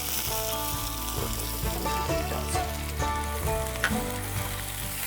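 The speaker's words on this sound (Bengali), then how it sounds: "পাঁচফোড়ন পড়ে গেল। এবার ফাটাফাট ইন কুইক সাকসেশন একটু পেঁয়াজ," Five-spice seeds and onion frying in hot oil for a Bengali pointed-gourd dish, a steady close sizzle throughout with a few sharp clinks and stirring taps, no speech.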